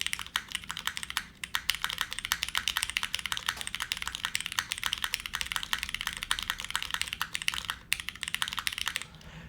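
Rapid, crisp clacking of a mechanical keyboard being typed on continuously, with a brief pause near the end before the keystrokes resume.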